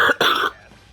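Two quick, harsh coughs from one person, close and loud, the second longer, then quiet.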